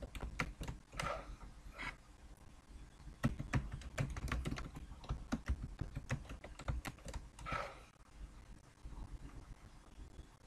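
Keystrokes on a computer keyboard as a command is entered into a Windows command prompt, a long run of quick, close clicks in uneven bursts with brief pauses between words, no talking.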